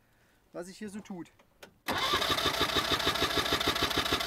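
A Trabant rally engine cranks and catches after someone speaks briefly, then settles into a loud, close, rhythmic two-stroke chug that keeps running steadily to the end.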